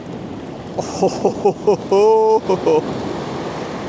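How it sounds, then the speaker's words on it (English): Ocean waves surge in on Diamond Beach in Iceland as a broad, steady wash of surf mixed with wind buffeting the microphone, while a voice speaks in short bursts over it. "Have the waves coming in"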